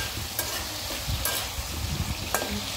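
Chicken stirred in a frying pan, a steady bed of sizzling with a few sharp scraping strokes of the spoon against the pan, close and moderately loud.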